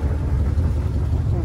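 A 1966 Chrysler New Yorker engine revved a little with the accelerator, a close, low rumbling hum that holds steady over a brief moment.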